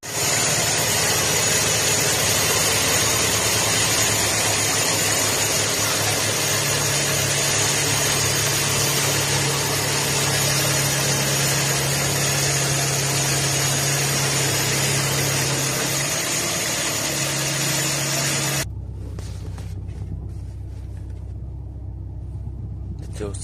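Car engine idling while its air filter box shakes, producing a steady, close, loud rumble with vibration that continues for most of the clip before dropping to a much quieter background.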